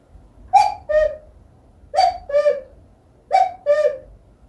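Someone imitates a cuckoo's call, giving three clear two-note hoots at an even pace, close and alone against a quiet background.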